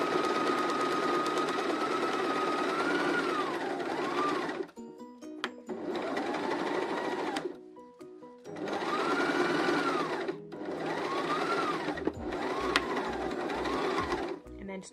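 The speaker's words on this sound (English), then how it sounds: "doing a back stitch over there just to make sure that the label sort of holds the weight" A sewing machine back-stitching a label onto a Christmas stocking, whirring steadily in several close, loud runs separated by short pauses and mechanical clicks.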